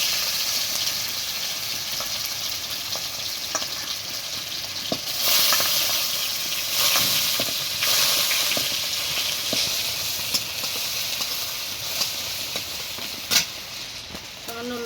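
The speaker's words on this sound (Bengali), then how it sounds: "তেল গরম হয়ে গেছে, এখন আলুটা দিয়ে দেবো।" Potatoes go into hot oil in a pan, giving a loud, steady, close sizzle that swells and crackles throughout while a person talks over it.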